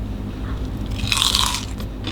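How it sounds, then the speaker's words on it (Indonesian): Someone bites into a crunchy, spicy fried mini cireng snack, one loud crisp crunch close to the mic over a low background hum. "Kita cobain. Pastinya kriuk banget ya, ini crispy banget."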